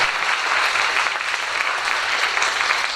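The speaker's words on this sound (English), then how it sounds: "let's give them a round of applause" A school audience at a district spring art show applauds its student artists, dense even clapping from many hands that holds steady and fairly loud for the whole moment, with no voices over it.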